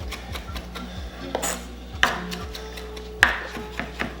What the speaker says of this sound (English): Kind of loosely chop this. You don't want it too small.